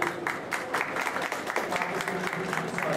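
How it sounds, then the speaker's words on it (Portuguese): Audience applause at a comic artists' event during an entrepreneurs' fair in Ceará, steady dense clapping filling the whole span at moderate loudness, with no talk over it. "Palmas, por favor."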